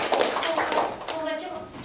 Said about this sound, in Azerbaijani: Gəlin alqışlar bu qrupuda